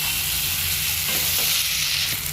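Spice paste stir-fried in oil for Bengali muri ghonto, a loud continuous sizzle and hiss with faint scraping of stirring, no voices.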